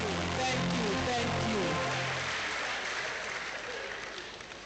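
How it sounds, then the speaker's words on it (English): Audience applauding at a university inaugural lecture, a dense, steady round of clapping that fills the hall and slowly fades toward the end, with a voice talking over it in the first half. "Let's clap for ourselves, please."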